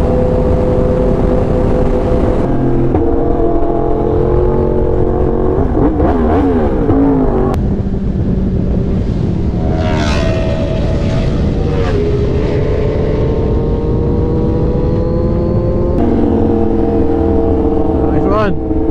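A V4 Speciale motorcycle revs hard and roars past close by, engine pitch rising and falling through repeated throttle blips, with voices talking over the steady engine noise.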